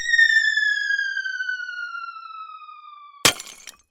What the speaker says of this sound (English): And it smashed into many pieces